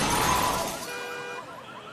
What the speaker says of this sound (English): He's crashed into the car at the bottom there.